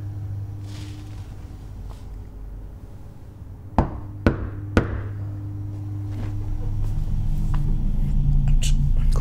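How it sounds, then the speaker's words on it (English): Three sharp knocks on a door in quick succession, fairly close and clear, set against a steady low hum and faint background noise in a horror scene. "You have to knock."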